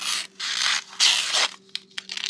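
A bushcraft knife slices through paper in several long, loud tearing strokes followed by a few shorter, sharper cuts, close and with no talking.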